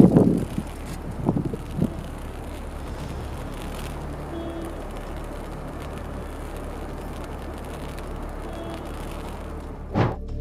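Gusty crosswind at an airport, a steady low rushing roar with faint flapping and a few thumps near the start and end.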